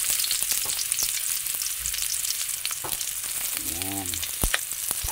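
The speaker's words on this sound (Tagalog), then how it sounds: "Ilagay na natin ang bawang at saka sibuyas" Garlic and onion hit hot oil in a pan for Bicol express with pork neck, a loud, dense crackling sizzle that runs throughout, with a few sharp pops.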